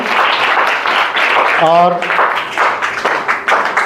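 Loud applause from a gathering at a village school event welcoming a girl named Vinita, a sustained burst of clapping with voices talking and a brief tonal call mixed in.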